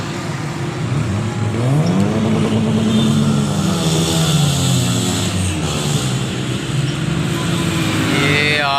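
Cars drive along an Islamabad street as one engine revs hard, its pitch sweeping up and down over a steady background of passing traffic and engine rumble.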